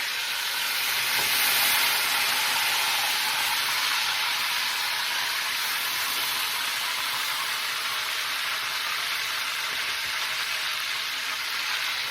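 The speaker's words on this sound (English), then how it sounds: "Hopefully you can hear me over the frying." Steady, loud sizzling of food frying in a hot pan, a continuous crackling hiss with no voices.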